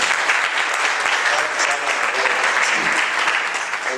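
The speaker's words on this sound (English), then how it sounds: "Please, a round of applause for him." A crowd applauds a chairman of a board of trustees at a peace education event for students, a loud, even wash of clapping that holds steady throughout.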